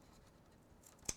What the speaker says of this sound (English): I'm going to cut this one a little farther.